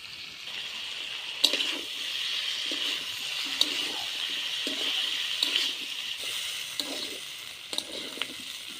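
Red lentils, vegetables, salt and turmeric cook in a pan for a mixed-vegetable chorchori, a constant soft sizzling hiss broken by regular scraping strokes of stirring.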